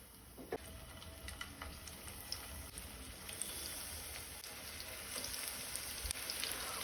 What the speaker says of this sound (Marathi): तेल तापले तशे हे डांगर हातून घालून घेवया